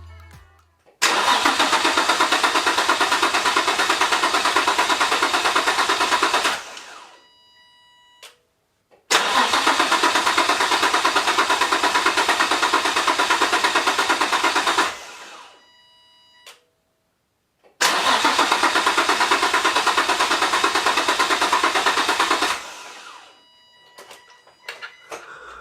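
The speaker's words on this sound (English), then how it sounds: "So now you're going to hear the just cranking over." Turbocharged Nissan 350Z engine cranking over without catching, three long steady starter bursts of about six seconds each, separated by silent pauses and faint clicks, loud and close.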